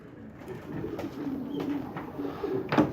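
Young racing pigeons cooing softly in a loft, low throaty coos repeating unevenly at close range with some wing shuffles and no speech.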